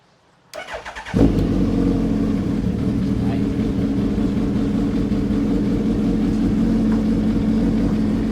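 A motorcycle, likely a Yamaha RX100 or Suzuki Hayabusa, cranks briefly with a starter whir, then fires and settles into a loud, steady close-up idle that runs on continuously.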